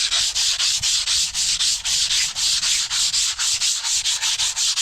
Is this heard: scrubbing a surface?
yes